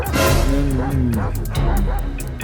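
Dogs barking and yipping in the GTA 5 video game, a pitbull among them, with repeated barks and whimpers running throughout, loud and close, mixed with a voice talking over them.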